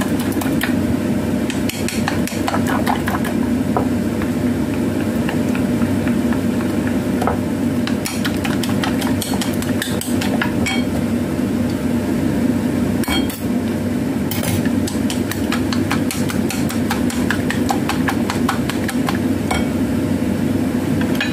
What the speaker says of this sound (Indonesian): Kita akan mengocok telurnya ini.